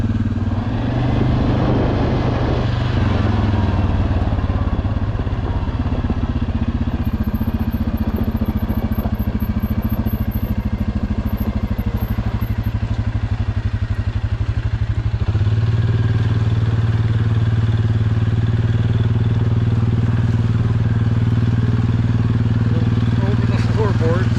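Suzuki King Quad 750 ATV engine labouring steadily up a steep mountain hill, a close, continuous droning rumble that shifts lower partway through, with clatter over rough ground.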